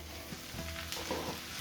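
Ground beef with garlic sizzles and fries in a pan, a faint, steady crackle with light stirring, no voices.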